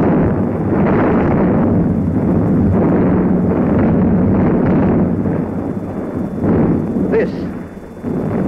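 Anti-aircraft guns fire continuously during an air raid on Moscow, a loud, dense barrage of booms and rumbling blasts with wind buffeting the microphone throughout.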